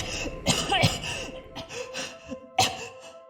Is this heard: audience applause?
no